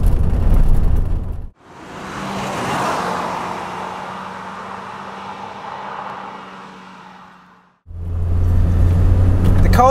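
A Lotus Elise R sports car on the road swells into a loud engine and road roar that rises, holds, then fades over several seconds, framed by cut-off bursts of louder noise at each end.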